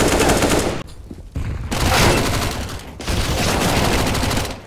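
Dense bursts of automatic gunfire rattle loud and close in a video game match, broken by a couple of brief pauses before the shooting resumes.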